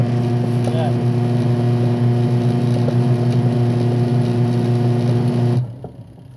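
Washing machine motor running and agitating, a steady close hum with tonal whine that switches between forward and reverse, ending abruptly as it is shut off; a voice speaks over it.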